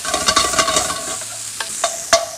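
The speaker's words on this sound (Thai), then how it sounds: "แล้วก็หมู ผัดหมูให้หอม เราจะมีน้ำมันหมูจากหมูสามชั้นที่เรา ซอยไว้เมื่อกี้ด้วยนะครับ" Pork being stir-fried in rendered pork-belly lard with garlic in a wok, a steady bright sizzle broken by several sharp scraping stirs of the spatula, close and fairly loud, no talking.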